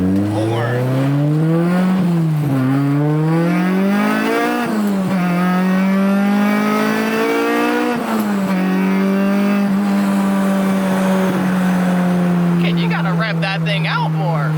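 A Honda Civic with a K24 engine accelerates hard, its engine note climbing through the revs with brief dips at gear changes, loud and close throughout, ending in a sustained high drone with some tire noise.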